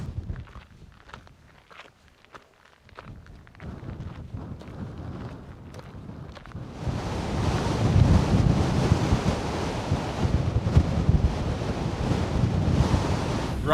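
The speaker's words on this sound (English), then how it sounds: "flipping heck, it is windy" Wind buffets the microphone on the summit of Gowbarrow, a small Lake District hill, in a strong, steady roar that builds and stays loud, with faint crunching steps underneath early on.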